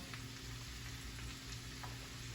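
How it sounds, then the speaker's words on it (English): Oil sizzles softly in a pan for sausage and peppers, a faint, even crackling hiss that holds steady throughout, with no voices. "You can hear it starting to sizzle."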